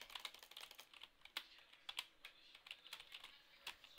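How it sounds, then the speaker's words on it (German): Rapid, uneven typing on a computer keyboard during a German gaming livestream, sharp keystrokes clustering in quick bursts with brief pauses, close and fairly quiet with no talking. "Oh, ich drück so kompliziert auf meine Tastatur"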